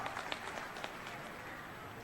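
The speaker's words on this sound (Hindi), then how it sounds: "ताली बजा के स्वागत करा" Faint, distant applause from an outdoor political rally crowd in Ambikapur greets a minister, heard as a steady patter of clapping with a few sharper claps standing out.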